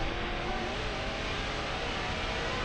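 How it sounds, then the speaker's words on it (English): A NASCAR Canada Series race car at CTMP eases off a turn and then goes hard on the gas, a loud continuous roaring engine with broadband rushing noise throughout, no voices. "you can hear them ease off the turn, and then as soon as they know they've got the bite, hard on the gas"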